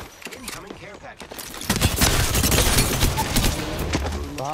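Gunfire in Apex Legends, a dense burst of rapid automatic shots that starts partway in and keeps going loud and close, with a player's voice talking over the early part.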